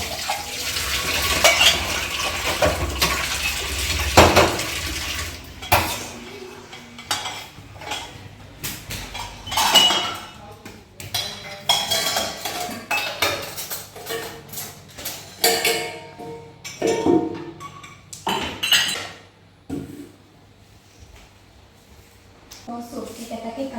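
Dishes being washed by hand with running water, splashing and clinking of plates, pots and cutlery in bursts, loud at first and then intermittent, with someone speaking over it.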